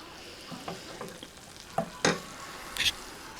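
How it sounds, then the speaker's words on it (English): Chicken wings fry in hot oil for a Super Bowl meal with a steady, soft sizzle, broken by a few louder clinks and stirring knocks near the pan. "There's the wings, about to go in the oil."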